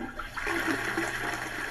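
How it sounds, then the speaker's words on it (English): A toilet flush sound effect rushes in after a brief pause, a loud swirling gush of water that holds steady and close to the end. "So now I have three different flushing sounds"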